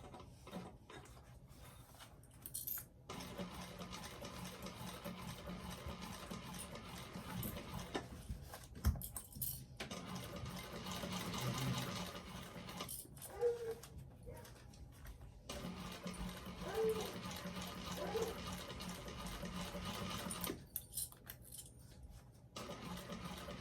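Sewing machine stitching a bag gusset past the piping along a quarter-inch seam, a steady mechanical whirr in several bursts separated by short pauses, with faint handling noises between runs.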